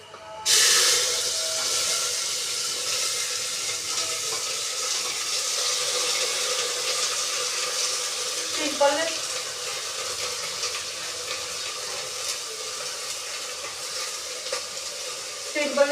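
Onions tipped into hot oil with browned cumin seeds, erupting into a loud, continuous close sizzle and hiss that holds steady, with occasional stirring clatter.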